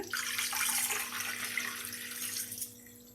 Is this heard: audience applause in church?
no